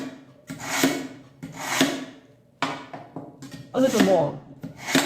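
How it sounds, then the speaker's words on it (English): A kitchen knife drawn through a knife and scissor sharpener makes four rhythmic rasping strokes, each a loud broadband scrape about a second long, with a brief spoken remark near the end. "Let's see if it will sharpen the knife."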